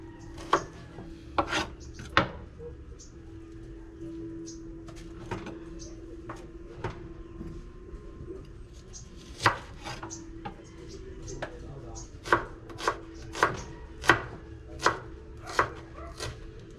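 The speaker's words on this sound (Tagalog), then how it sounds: "magkayod tayo ng mga sangkap, no. Sibuyas" An onion being chopped with a knife on a cutting board, sharp wooden knocks in scattered bursts that grow into a quicker run toward the end, close and alone over a low hum.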